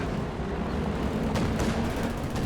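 Company of Heroes 2 battle noise rumbles on continuously, with dense small-arms gunfire and artillery booms blending into a loud, steady wash of combat, punctuated by a few sharper shots near the end.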